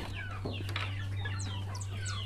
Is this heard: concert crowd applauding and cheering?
no